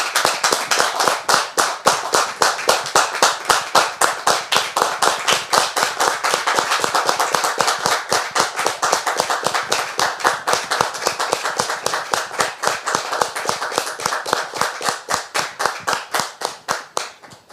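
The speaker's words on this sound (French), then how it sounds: "on la reçoit très cher public avec des applaudissements" An audience claps steadily for a studio talk show guest, a dense, even run of applause that carries on alone for the whole stretch.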